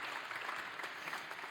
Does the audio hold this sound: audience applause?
yes